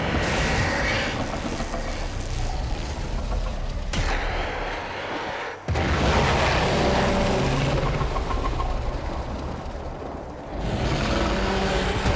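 A loud explosion in the sci-fi video game Warframe, with a dense rumbling blast and crackling debris that cuts out briefly, then swells again into sustained roaring noise.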